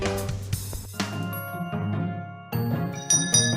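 A school bell rings at a last-day-of-school celebration, bright chiming tones layered over music, fairly loud and steady with a few swells.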